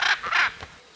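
A hyacinth macaw gives a few harsh, raspy squawks in quick succession, loud and close, with no other sound.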